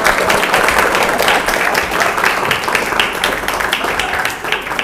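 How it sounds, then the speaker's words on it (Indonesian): Audience at SMK Sejahtera school event breaking into dense, sustained applause, loud and continuous, with a few cheering voices mixed in, easing off near the end. "Aplaus untuk kita"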